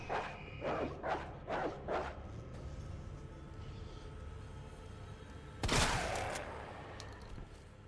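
Several dogs bark in a quick rhythmic series within the Resident Evil 2 Remake video game, followed by a burst of noise over a steady low ambient hum.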